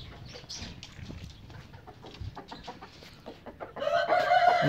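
Hens clucking as they are let out of their coop on a small home farm, irregular close clucks building to a louder burst of squawking and cackling near the end, with no one talking.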